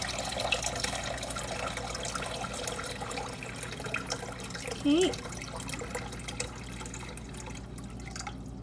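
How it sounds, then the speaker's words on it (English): Tap water runs steadily into a big soup pot for chicken soup, a continuous close splashing and trickling stream, with a brief spoken word partway through. "I'm going to add in probably about half of the"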